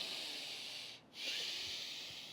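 Fast breathing through one nostril during breathwork, a steady close airy hiss of rushing breath with a brief pause between strokes, alone and fairly faint.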